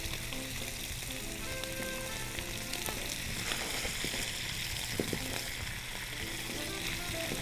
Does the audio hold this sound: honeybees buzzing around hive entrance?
no